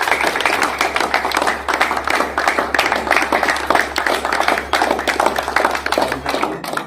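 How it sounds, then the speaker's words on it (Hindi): A crowd at a bike delivery celebration for a Pulsar 125cc claps continuously, a dense, close patter of many hands going on throughout. "ताली बजाइए, ताली बजाइए सब।"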